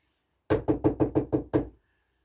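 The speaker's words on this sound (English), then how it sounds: "she heard at the back door, the door to the kitchens, a knock on the door" Seven sharp, evenly spaced knocks on a wooden back door to a kitchen, close and loud, in a quick steady rhythm, then silence.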